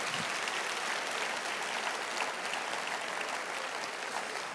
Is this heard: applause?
yes